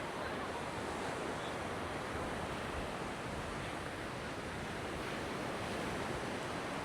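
Ocean surf on Da Nang beach, a steady broadband wash of modest waves rolling in continuously, with no clear breaks and wind noise over the microphone.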